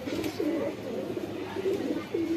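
Pigeons in a loft of colourful Chinese khaki and other fancy breeds give repeated low rolling coos, several calls in steady succession close by over a faint background hum.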